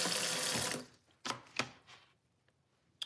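Running tap water splashes over a potato in a kitchen sink, a loud steady stream for under a second, then a few short knocks and splashes as the potato is handled, fading to near silence.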